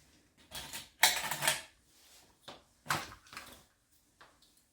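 Fabric being cut along two sewn lines, several separate bursts of crisp snipping and rustling, with two longer cuts near the start and shorter quieter ones after, close and alone in a quiet room.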